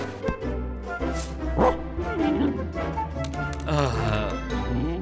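A cartoon dog yips and barks in quick, bright bursts, mixed with whimpering sounds and lively background music, with no clear talk.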